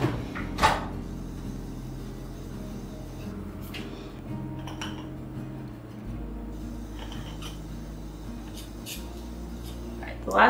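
An oven door opens and closes in a home kitchen while shortbread cookies are baked, giving a couple of muffled thumps and clunks under a low steady hum.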